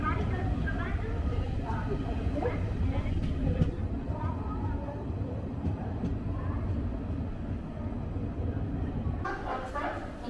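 Jan Shatabdi Express train arriving at Kollam railway station, a steady low rumble and rattle of the carriages filling the whole stretch, with people talking faintly over it.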